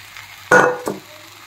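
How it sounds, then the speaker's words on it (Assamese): Fried onions tipped into a spice mix already frying in a pan, giving one loud hiss and clatter that fades, then a smaller second burst, close and alone. "এতিয়া মই ভাজি থোৱা পিঁয়াজখিনি ইয়াতে দি দিছোঁ"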